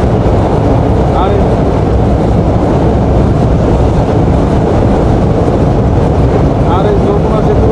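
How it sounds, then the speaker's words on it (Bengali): A train crossing the Jamuna rail bridge gives a steady, loud rolling rumble that fills the whole stretch, with a voice talking over it. "এই রেলের ব্রিজ দিয়ে আমি প্রথম পার হচ্ছি"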